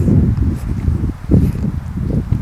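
Wind gusts in open countryside on a farm outing, a steady low rumbling roar that swells and eases in uneven surges, close and fairly loud across the microphone, with no voices.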